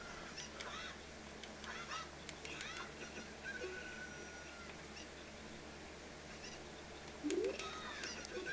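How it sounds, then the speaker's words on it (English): Chickens (cuccos) squawk in The Legend of Zelda: Ocarina of Time, with scattered brief clucks over a steady game background and one louder squawk near the end. "don't attack the chickens because they'll all come after you eventually"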